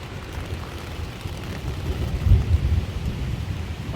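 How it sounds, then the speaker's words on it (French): Night thunderstorm over a campsite: steady rain hiss with a deep, swelling rumble of thunder near the middle, heavy low-end and continuous, no voices. "Voilà, c'est la tempête."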